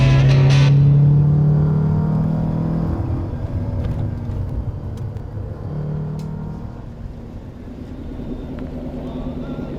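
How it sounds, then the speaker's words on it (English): Manual-transmission car on twisty roads near Parkfield, California, making a rev-matched downshift: a sharp engine blip at the start, then the revs falling away into a lower, rumbling drone that continues for several seconds. "one of the best feelings is to match a downshift like that, where you're matching the revs perfectly to keep you right in the torque band"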